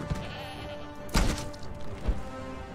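A goat in the Conan Exiles video game lets out two short, close bleats in quick succession over a low ambient game background, with no talk.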